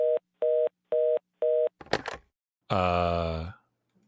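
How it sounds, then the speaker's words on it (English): A telephone call being placed: four evenly spaced beeping tones, a short burst of clicking, then a long held electronic tone that fades out before silence. "I'm already calling Edith."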